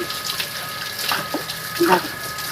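Drumstick (moringa) leaves being rinsed in water by hand for a village-style fried dish, giving short splashes and trickles in two brief bursts, with faint background sound.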